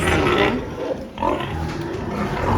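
A pig eats feed close by, with steady chewing, snuffling and grunting sounds that briefly quiet before resuming.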